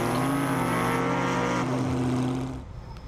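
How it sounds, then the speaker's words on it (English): A loud, steady roar from a blown alcohol engine, with a strong low hum and harmonics, running close by, then dropping off abruptly near the end. "you'll just kind of know by the sound of the engine"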